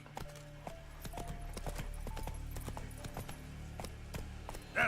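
Hooves of the horse Roach in The Witcher 3, a brisk rhythmic clip-clop of many close, sharp steps running steadily throughout.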